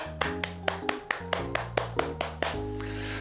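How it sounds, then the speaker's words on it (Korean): A few people clap in a church setting at the end of an online Bible class, around a dozen distinct, evenly spaced claps over a sustained musical tone, fairly close. "수고한 모든 분들께, 영상으로 함께 하신 모든 분들께 수고의 박수 하도록 하겠습니다"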